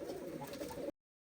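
Pigeons and their chicks coo together in a loft, a continuous low warbling chorus close by that cuts off abruptly.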